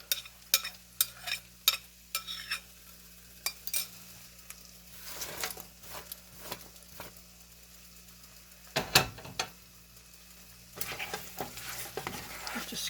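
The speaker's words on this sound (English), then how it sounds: "I'm going to grab the egg and the bacon and mix all this together" Five eggs and bacon being mixed together in a bowl for breakfast burritos, with soft scraping and tapping of a utensil in irregular bursts at low level, no talking.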